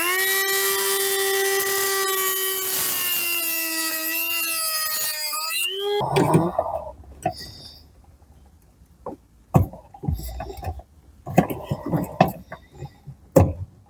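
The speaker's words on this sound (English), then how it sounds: "now we need to carefully grind off" An angle grinder whines at high pitch for several seconds, cutting off a clip on a 2005 Ford Mustang V6, the tone sliding as it bites, then stopping, followed by scattered clanks and knocks.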